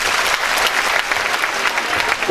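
A crowd at a Turkish community association gathering gives strong, sustained applause for the association president and board, a dense steady wash of clapping with no voices.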